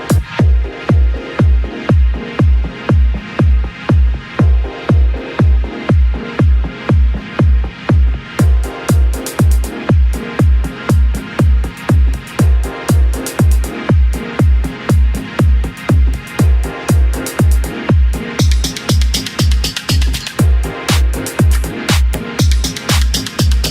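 Electronic remix of a track, driven by a steady, punchy four-on-the-floor kick with evolving, wavy synth plucks layered above and bright hi-hats entering partway through; loud, continuous and purely instrumental.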